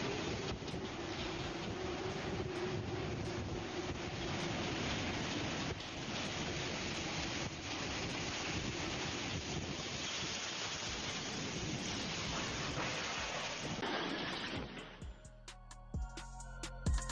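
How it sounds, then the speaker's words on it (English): Heavy rain pours steadily while strong wind gusts of a storm in China roar against the microphone, with rumbling buffeting throughout; the storm noise breaks up and cuts out near the end. "Watch how low the visibility gets as the winds and rain whip past the camera."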